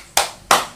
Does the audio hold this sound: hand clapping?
yes